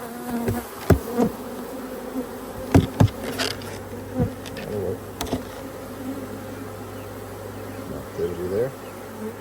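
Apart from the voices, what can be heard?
honey bees buzzing around hive box during split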